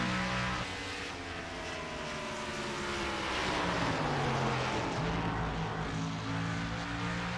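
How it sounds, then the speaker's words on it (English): Several stock race cars at Gateway roar past, engines rising and falling in pitch as they rev through downshifts, a dense continuous drone at a distance. "you hear those cars rev up when they downshift"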